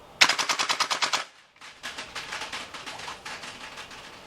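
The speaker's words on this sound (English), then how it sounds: "Here's a recoil test in full auto, just to let you see how hard this thing actually kicks." A VFC 417 gas blowback airsoft rifle fires full auto in two bursts, a rapid, sharp string of loud close cracks followed by a brief pause and a second, slightly softer volley.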